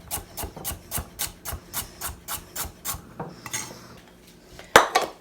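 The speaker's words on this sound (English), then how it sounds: "You'll notice I'm cutting everything thin." Knife slicing carrots thin on a cutting board, a quick steady run of about a dozen crisp chops, then a pause and one sharp final cut, close and fairly loud with no talking.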